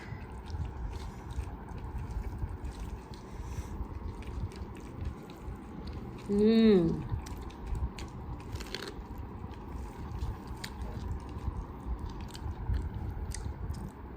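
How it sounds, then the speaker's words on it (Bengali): Someone close by eats cooked jute leaf greens with soft, wet chewing and biting over a steady background hum. A brief tonal sound rises midway, and nobody talks. "খেয়ে নিই পাট শাক"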